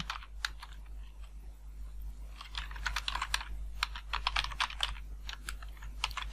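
Keys clatter on a computer keyboard in quick irregular runs, close and clear, with a low steady hum underneath and no talking.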